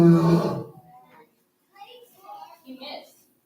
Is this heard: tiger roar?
yes